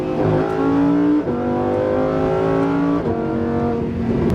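Lamborghini Huracan Performante cruising at about 65 mph, its engine a steady loud drone of layered harmonics with slight pitch shifts as the revs change, continuous and close throughout.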